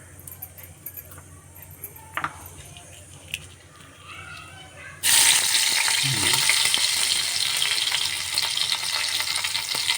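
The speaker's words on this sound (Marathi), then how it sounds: "हे तेल एक पळी ओतलंय जरा तेल गरम झालं लसूण टाकायचं" Garlic goes into hot oil in a pot and bursts into a loud, steady sizzle that starts abruptly halfway through, following quieter kitchen clinks and handling sounds.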